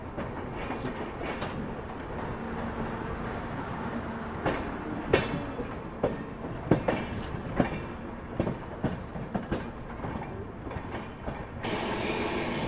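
Train rake rolling past, heard from aboard the Shree Shakti AC Express between Delhi and Katra: continuous rumbling with rhythmic clickety-clack wheel beats and sharp rattles, loud and close throughout, no talking.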